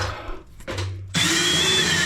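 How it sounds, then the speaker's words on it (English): A power drill with a pipe-cleaning attachment whirs up loudly after a brief scraping and a short lower hum, running steadily close by while cleaning a pipe end for a SharkBite fitting. "gotta slide that drill in there and clean that off"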